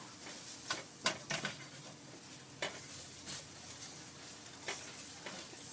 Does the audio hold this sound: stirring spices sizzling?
yes